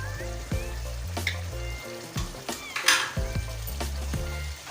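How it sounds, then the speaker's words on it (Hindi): Two finely chopped green chillies hit hot oil for Sindhi chicken biryani, giving a close, continuous crackling sizzle broken by a few clinks and scrapes of stirring in the pan. "अब मैं इसमें डालूँगी ये हरी मिर्च, जो कि 2 अदद बारीक काटी हुई हैं।"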